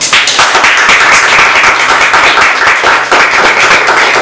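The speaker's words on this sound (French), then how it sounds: "Merci de les applaudir au chaudement." An audience at a cosmetology school graduation ceremony applauds warmly: dense, loud, continuous clapping from many hands for the whole stretch.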